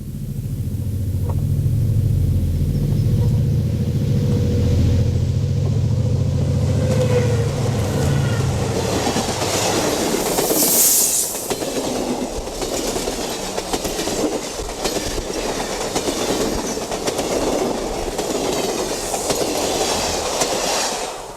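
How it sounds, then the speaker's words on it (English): An Amtrak Coast Hiawatha led by Milwaukee Road E9A locomotive 32A passes on a May day, a loud low diesel rumble giving way to steady clickety-clack of rail cars rolling close by. "The Coast Hiawatha passes with Milwaukee Road E9A number 32A on a May day."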